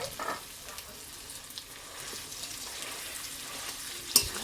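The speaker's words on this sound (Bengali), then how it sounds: "এখন আমরা সবগুলো উপকরণ একসঙ্গে ভেজে নিব।" Spices, cumin powder and mashed green banana fry in a pan, a quiet steady sizzle with occasional stirring scrapes and a sharp clink near the end.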